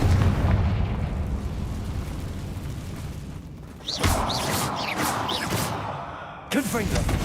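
Confringo fire spell explosions in Hogwarts Legacy: two sharp bursts with crackling tails stand out over a rumbling game backdrop, and voice-like sound runs beneath them.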